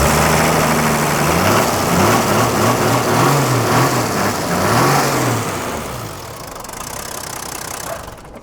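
A 1982 Toyota HJ47 Land Cruiser's turbo 2H diesel engine runs close by and loud, rising and falling through several revs with a clear droning pitch before settling lower toward the end.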